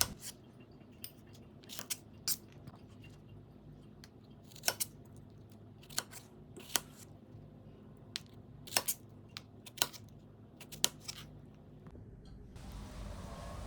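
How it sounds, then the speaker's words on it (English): Fresh ripe strawberries are cut into small pieces with a knife on a board, sharp intermittent chopping taps in an irregular rhythm, close and crisp against a quiet kitchen background. "Now we'll cut this into small pieces."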